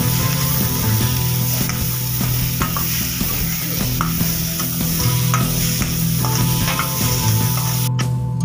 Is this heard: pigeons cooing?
no